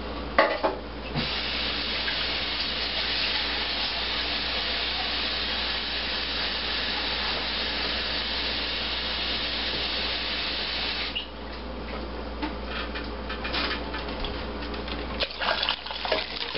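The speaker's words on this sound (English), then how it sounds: "we're going to put in some cold water in this" Cold water poured steadily into a pot of just-boiled beer wort, a continuous close splashing rush lasting about eleven seconds, then easing into quieter trickles and a brief final gush.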